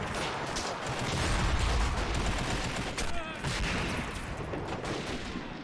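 Dense gunfire from an Army Men video game battle, soldiers in a forest trading fire with city buildings; continuous overlapping rifle and machine-gun bursts fill the whole stretch, loud and busy with no pauses.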